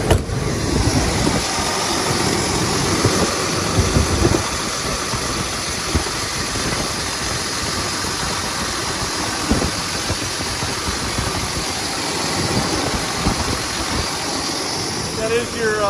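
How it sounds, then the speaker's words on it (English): A 2006 Freightliner Century 120 truck with a 14-liter Detroit Series 60 diesel idles steadily nearby, a continuous low rumble with a constant vibration throughout. "You start this truck, make sure you hold in that while you're starting it."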